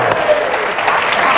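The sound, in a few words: studio audience applause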